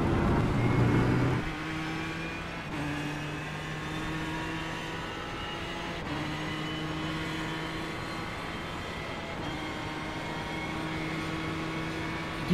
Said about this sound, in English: Car really struggles to grip for there, you can hear it.